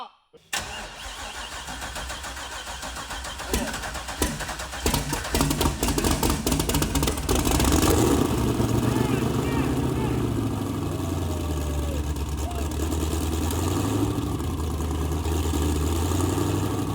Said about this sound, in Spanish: terminar de calibrar el pedal de aceleración para al fin hacer girar ese motor por sí solo